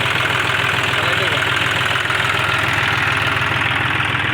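A farm tractor's engine runs steadily with four-wheel-drive gear engaged, giving a loud, continuous, even diesel idle with a low rhythmic throb and no break from start to finish.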